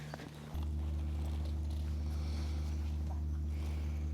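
Horses walk on a guided countryside horseback tour in Spain, their hooves clip-clopping in a steady, close rhythm over a constant low rumble.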